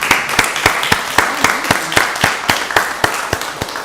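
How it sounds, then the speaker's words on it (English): Audience applause at a county board of commissioners meeting, with a steady wash of clapping hands punctuated by sharp individual claps, loud and close throughout. "Give him another round of applause."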